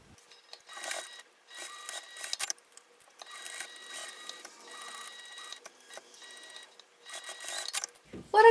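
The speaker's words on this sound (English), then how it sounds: "I'm just going to sew with the seam allowance given along this edge" A sewing machine stitches a seam along a fabric edge in several short runs of quiet, rapid mechanical chatter with pauses between them.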